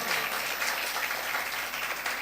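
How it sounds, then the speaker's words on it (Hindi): An audience at a school Teacher's Day celebration claps loudly in a dense, continuous burst of applause that holds steady throughout. "ज़ोरदार क्लैपिंग करें"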